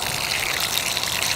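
Water sloshing and trickling as clothes get a quick rinse inside a durable plastic bag, a steady close wet rush with no pauses over a brief moment.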